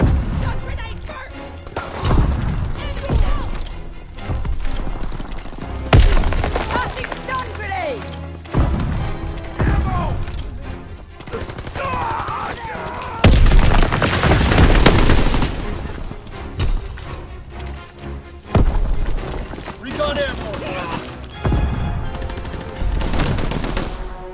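Artillery explosions and heavy gunfire fill a Call of Duty: WW2 multiplayer match, with loud repeated blasts and crashing impacts in irregular bursts while voices talk over the chaos.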